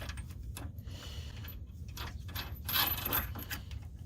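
Metal washers for adjustable Rock Krawler sway bar end links on a Jeep clink and jingle in the hand, a string of small bright metallic ticks that grows busier toward the end, close by with no talk.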